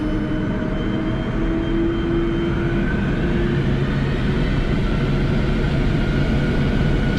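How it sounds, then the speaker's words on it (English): Boeing 747-400 engines spooling up to takeoff thrust in the cockpit at Mumbai, a steady loud roar with a rising whine, heard continuously from inside the flight deck. "Setting takeoff thrust."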